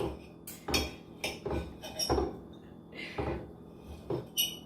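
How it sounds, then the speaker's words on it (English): Fork and knife clinking and scraping against a plate while cutting into tender pork ribs, a series of sharp, close metallic taps spaced irregularly, with soft rustling between them. "I'm gonna break the rib rules and cut them with a fork and a knife"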